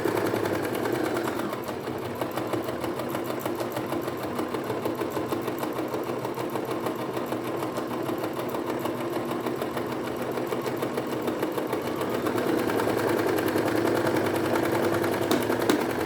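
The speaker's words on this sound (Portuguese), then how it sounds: "E vou costurar toda a volta." A sewing machine stitching steadily around the edge of a fabric Easter bunny bag, giving a fast continuous mechanical whir and rattle that runs for the whole stretch, close and with no talking.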